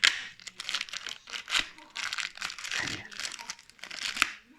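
Plastic and cardboard packaging of a Zodac Masters of the Universe Origins action figure crinkles, crumples and tears in continuous close bursts as it is opened by hand.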